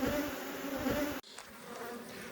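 Honeybees in a busy hive full of queen cells make a loud, dense buzz close up, then it cuts to a softer, thinner hum.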